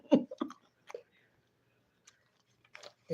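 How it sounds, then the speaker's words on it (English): A person chews food close to the mic, with a few soft crunchy bites and mouth clicks spaced by silent pauses. "can you hear me chewing?"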